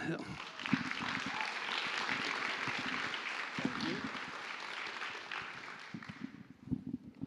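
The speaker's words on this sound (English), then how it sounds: "let's give him a round of applause" An audience at a science communication talk applauds a speaker, a dense, steady wash of clapping that holds for several seconds before thinning into a few scattered claps.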